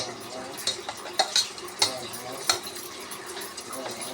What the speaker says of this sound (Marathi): बेसन छान असं ढवळून घ्यायचं आपण गाठी सगळ्या फोडायच्या